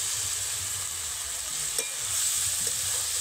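Fried potatoes and okra sizzle steadily in a pan as they are sautéed with a spice paste, a constant close hiss of hot oil with a faint stirring knock partway through.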